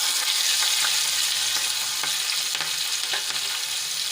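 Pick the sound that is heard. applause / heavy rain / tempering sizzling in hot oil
tempering sizzling in hot oil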